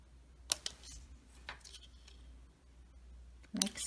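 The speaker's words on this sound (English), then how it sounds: "So I'm going to cut this off" Scissors snip off a paper border in a few sharp, close cuts, with quiet pauses between them, then one last crisp snip near the end.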